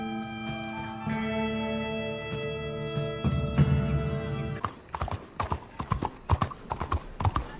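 Horse hooves clip-clopping in the video game Red Dead Redemption 2, first under a steady musical drone, then turning into loud, close, irregular hoofbeats with a brief neigh among them.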